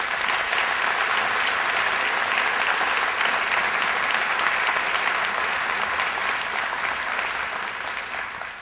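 Sustained applause from an audience at a Respect for Life event, a dense wash of clapping that stays steady and loud throughout before easing slightly at the end.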